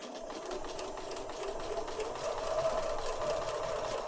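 A sewing machine stitching on its default stitch length while a junk journal is made: a steady, fairly quiet mechanical whir with a fast rhythmic clatter running throughout.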